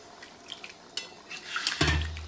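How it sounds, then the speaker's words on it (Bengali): A metal spatula is rinsed with water in a home kitchen while a vegetarian jackfruit curry cooks. Light clinks, scrapes and splashes come close and fairly quiet, ending in a fuller rush of water. "খুন্তিটা একটু ধুয়ে নিলাম।"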